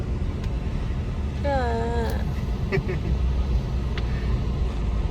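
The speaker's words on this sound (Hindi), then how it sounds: "ये देखो जरा हाल, इतना ज्यादा ट्रैफिक" Heavy city traffic in Mumbai on a sunny day, a steady close rumble of road vehicles with a brief voice rising over it partway through.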